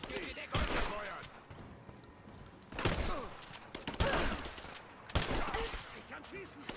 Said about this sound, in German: Töte sogar mit einem Repetiergewehr, pass mal.